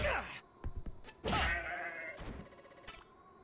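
Goat bleating in the Zanki Zero video game, several short wavering bleats and thuds in a sparse game soundscape, loud and close.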